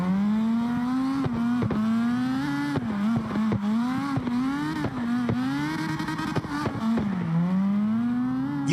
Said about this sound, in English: You can hear that rotary engine screaming in there